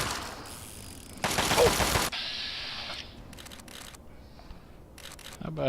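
Gunshots in Fallout 3, a video game: a loud burst of sharp shots followed by quieter mechanical clicks and further short bursts against a low background hum.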